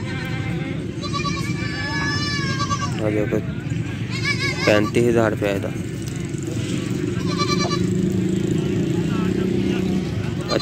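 Several bleats from Beetal goats ring out in a busy Faisalabad goat market, clear calls over crowd noise and passing traffic while someone talks close by.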